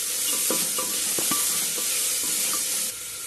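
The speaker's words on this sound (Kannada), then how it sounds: "ಈರುಳ್ಳಿನ ಸ್ವಲ್ಪ ಕೆಂಪಗಾಗೋ ಥರ ಫ್ರೈ ಮಾಡ್ಕೊಳ್ಳಿ" Onions and peanuts fry in a pan with a steady, loud sizzle, broken by several short scraping stirs of a spoon against the metal.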